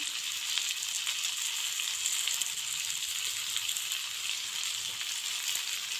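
Spices, turmeric, cumin powder and salt sizzle in oil in a frying pan while being stirred for a Bengali bhetki fish curry, a steady dense hiss with light scraping and no talk.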